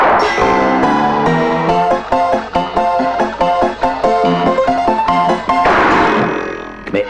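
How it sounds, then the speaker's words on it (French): A mechanical player piano in a Western saloon plays a bouncy, jangly tune with steady rhythmic chords, loud and close, before ending in a noisy burst. "Et d'un coup de feu, Joe met en marche le piano mécanique."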